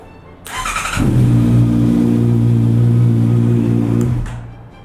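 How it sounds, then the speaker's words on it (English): A Honda CB650R motorcycle cranking without catching, the starter motor whirring steadily and loudly at close range for about three seconds before cutting off. "Maybe if I turn the bike over, it'll turn on."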